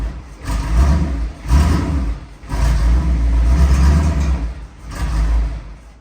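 A Jensen car running for the first time in 25 years, its engine revving in several loud, rumbling surges separated by brief dips, close by and without speech.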